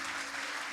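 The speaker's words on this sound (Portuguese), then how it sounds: "Aplauda o Senhor." Church congregation clapping steadily throughout a short moment of worship, a dense even wash of applause from a crowd filling the room.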